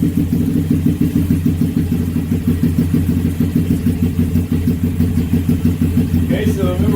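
A warmed-up Honda Grom motorcycle sits on a stand with its engine running at a steady, loud idle, a rapid even thump close by, with a brief higher mechanical whine near the end.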